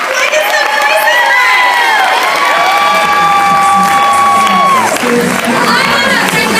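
A large audience cheers and applauds for senior consultants as they sit down at a career event: loud, continuous crowd noise with whoops and high shouts rising and falling throughout.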